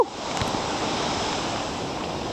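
Very cold, fast-running water pours at a waterfall, a loud continuous rushing roar that stays steady throughout, with a brief bump at the very start.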